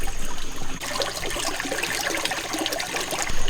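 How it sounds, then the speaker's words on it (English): Bell siphon in an aquaponics biofilter starting to drain, a continuous close rush and gurgle of flowing water with splashy trickling detail, moderately loud and without speech. "Okay, the siphon did just start. It looks like it's going strong."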